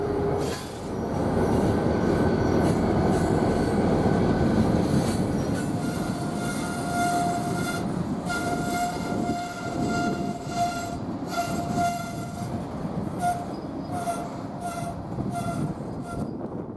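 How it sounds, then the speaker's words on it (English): A local freight train led by three EMD SD40N diesel locomotives rolls in at a rail yard in Cheyenne, Wyoming, a loud continuous rumble of engines and wheels with squealing flanges and brief horn-like tones as it passes close by. "we see the local 60 coming into Cheyenne, this time with 3 EMD"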